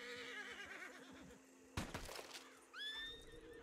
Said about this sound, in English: scared horse can clear off